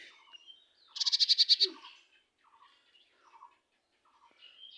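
Pet myna and parrot call indoors: a rapid burst of harsh, rattling squawks lasts about half a second, and softer scattered chirps and clicks follow, near and fairly quiet.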